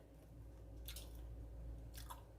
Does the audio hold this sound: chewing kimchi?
yes